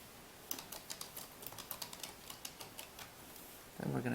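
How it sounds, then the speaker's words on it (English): Fingers type on a computer keyboard in a quick, uneven run of faint clicks and taps, close by in a quiet room, before a voice starts talking at the end. "now we will type in the elementary school"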